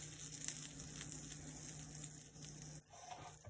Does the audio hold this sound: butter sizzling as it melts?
yes